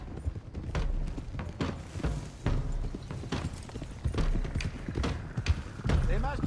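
Horses galloping in Red Dead Redemption 2, a rapid, rhythmic clip-clop of hooves close by that runs throughout, mixed with people talking.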